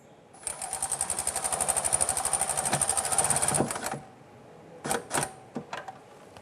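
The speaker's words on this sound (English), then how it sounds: "We'll go ahead and tighten down this clamp." A radiator hose clamp on a 1997-2006 Jeep Wrangler is tightened with a rapid, evenly pulsing mechanical whir lasting a few seconds, followed by several short bursts.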